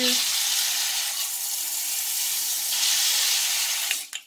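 A stainless steel hand-held bidet sprayer hisses steadily with a strong, close, broadband spray of water for about four seconds, then cuts off abruptly at the end.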